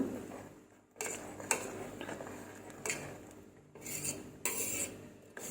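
A spoon stirs paneer gravy in a pan, making close, scraping, clinking strokes against the metal that come in uneven bursts with short pauses between them.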